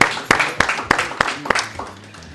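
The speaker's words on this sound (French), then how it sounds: "on les applaudit pour la dernière question" About six sharp, evenly spaced claps ring out in a steady rhythm, an audience cheering on quiz game contestants, fading off as a voice carries on.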